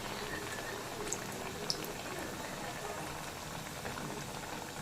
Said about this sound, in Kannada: ಒಂದು ಸ್ವಲ್ಪ ಬ್ರೌನ್ ಕಲರ್ ಬರೋವರೆಗೂ ಚೆನ್ನಾಗಿ ಫ್ರೈ ಮಾಡ್ಕೊಬೇಕಾಗತ್ತೆ ಎರಡು ಸೈಡು.